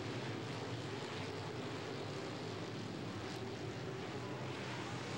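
Late model race cars in a 2003 American Late Model Series feature at Limaland Speedway produce a continuous broadband roar, heard faint and distant without interruption.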